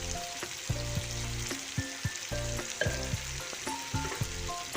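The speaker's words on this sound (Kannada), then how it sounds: "ಇದನ್ನು ಹಾಕಿ ಹಸಿ ವಾಸನೆ ಹೋಗೋವರೆಗೂ ಇದನ್ನು ಫ್ರೈ ಮಾಡ್ಕೋಬೇಕು" Ground masala and carrots sizzle in a hot pan, with a steady frying hiss broken by repeated scraping and clinking stirs of a spoon, close and clear with no talking.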